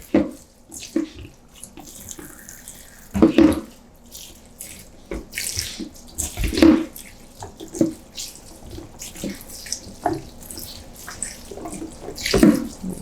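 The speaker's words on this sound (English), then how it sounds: "Put some cold water on top to stop the cooking process" Cold tap water pours over green beans in a colander in a home kitchen, a steady close splashing stream with uneven surges and clattering bursts as the beans shift.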